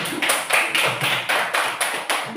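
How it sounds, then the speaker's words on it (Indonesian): Students in a classroom give a short round of applause for classmates who scored full marks, about eight evenly spaced bursts of claps that are fairly close and steady, with no talk over them. "Tepuk tangan dulu."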